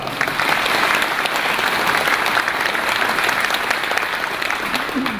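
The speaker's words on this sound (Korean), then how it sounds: "그런 데서 우리 이수정 도시장님께 감사와 함께 성원을 부탁하는 큰 박수 한번 보내주시기 바랍니다." A large crowd at a ceremony for an auto parts industrial cluster factory completion claps steadily and loudly for several seconds, a dense, continuous wash of applause that eases slightly at the end.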